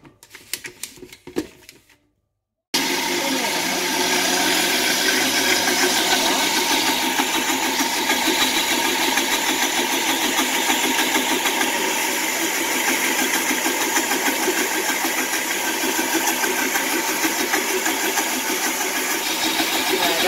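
An electric mixer beats dough containing flour, sesame seeds and egg yolk, starting after a brief clatter and then running as a loud, steady, close mechanical whir with rattling texture, no voices.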